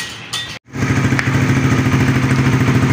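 Honda Raider 150 Fi motorcycle, freshly overhauled after flood damage, starting up and settling into a steady, close, loud idle with a rhythmic low throb.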